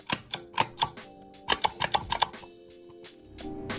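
Irregular clacking keystrokes on a keyboard, bursts of several quick taps followed by pauses, close and fairly clear with no talking.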